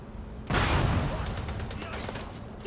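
A loud burst of rapid video-game gunfire breaks in suddenly and keeps rattling on, dense and continuous, with a softer din before it starts.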